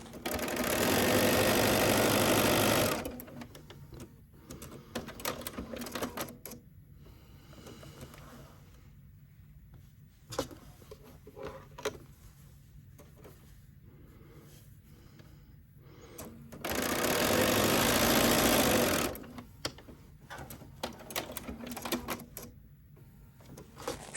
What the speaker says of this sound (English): we are going to stitch right along the line that we drew